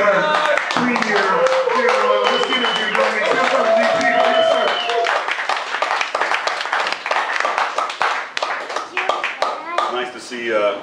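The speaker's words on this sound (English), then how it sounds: "let's give a big round of applause for Doug Hiatt, premier" Audience clapping and cheering for Doug Hiatt at a petition party, dense hand claps with whoops and crowd voices throughout, starting loud and thinning slightly toward the end.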